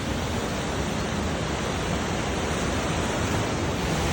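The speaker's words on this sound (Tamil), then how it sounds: "நயகரா நீர்வீழ்ச்சியில் தண்ணி எவ்வளோ வேகமாக வந்துக்கிட்டு இருக்கு." Water rushes over Niagara Falls in a constant, dense roar that fills the scene from start to finish with no other sounds audible.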